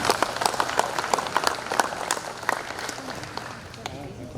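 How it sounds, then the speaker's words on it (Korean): Sustained applause from an audience at a Sancheong veterans' and patriotism commemoration ceremony, as a county governor is welcomed for an award presentation; dense, steady clapping lasts the whole stretch. "박수로 맞이해주시면 감사하겠습니다."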